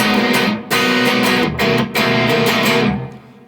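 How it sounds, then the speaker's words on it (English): Distorted electric guitar chords open a song, loud and sustained, struck in a choppy rhythm with short gaps between, the last chord ringing out and fading. "the song starts with some distorted chords"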